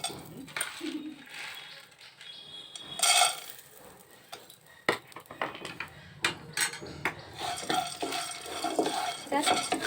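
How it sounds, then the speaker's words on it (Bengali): Nuts stirred in a dry frying pan, with a utensil scraping and clinking against the metal in an irregular rhythm; one louder clatter comes partway through, and no one speaks. "বাদামগুলোকে নেড়ে নেব"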